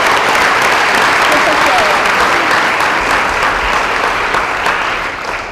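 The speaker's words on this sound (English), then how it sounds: "I want to start with just a huge round of applause to these guys" An audience at a Riverside High School national letter of intent signing ceremony gives a sustained, dense round of applause, with steady, even clapping filling the room from start to finish.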